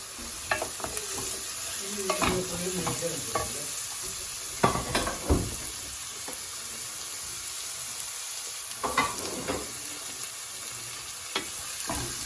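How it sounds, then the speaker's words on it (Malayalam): Green chillies and sliced onion sautéing in oil for mutton curry, a steady sizzle broken by scattered spatula scrapes and stirring knocks against the pan, close by with no talking. "ഇതുകൂടി ഒന്ന് നന്നായിട്ട് വഴറ്റി കഴിഞ്ഞ് ഒരു 5 മിനിറ്റ് വയ്ക്കാം"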